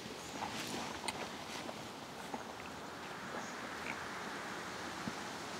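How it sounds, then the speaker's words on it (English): Wind blows steadily outdoors in the woods, buffeting the microphone with a constant broad rush and a few faint scattered clicks and thumps. "I hope the wind isn't cutting my sound off too bad. The breeze has picked up in the last little bit here."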